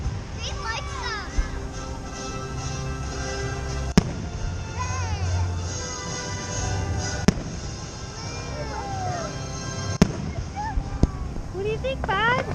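Fireworks bursting in a few sharp, distant booms spaced several seconds apart over a steady outdoor hum, with a baby and adults talking and cooing throughout.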